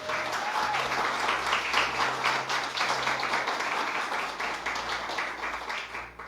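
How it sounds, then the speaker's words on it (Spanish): A church congregation gives steady applause, a dense even wash of clapping from many hands that stays strong and close for several seconds. "Alguien que le dé un aplauso a Jesús por eso."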